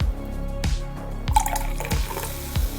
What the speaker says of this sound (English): it's definitely much more of a thicker sound when you pour it